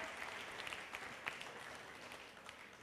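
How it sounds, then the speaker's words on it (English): Audience applause at a live music performance, steady dense clapping from a crowd that holds evenly throughout without voices on top. "Big round of applause to the..."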